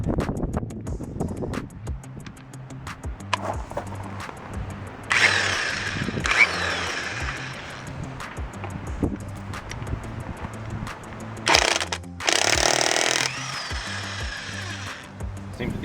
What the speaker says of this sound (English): This is going to be just my impression of this particular Porter Cable impact wrench.